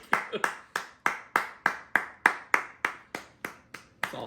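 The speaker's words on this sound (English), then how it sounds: "I would keep applauding, but I have to stir the risotto" One person claps alone in a home kitchen, about a dozen crisp, evenly spaced claps at a steady rhythm, close and dry with nothing else audible.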